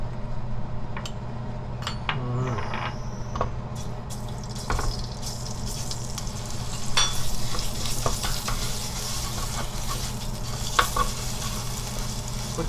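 Shishito peppers and garlic stir-frying in a hot pan with gochujang, a steady close sizzle broken by scraping and stirring clatters throughout, with no talk.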